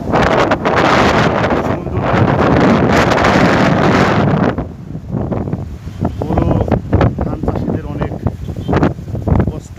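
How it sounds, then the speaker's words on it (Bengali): Heavy rain and strong gusty wind from Cyclone Remal in Rajshahi roar loudly and steadily through the first half, then ease into rougher, gusting bursts while a voice talks over the storm. "বৃষ্টি প্রচণ্ড বৃষ্টি সাথে ঝোড়ো হাওয়া"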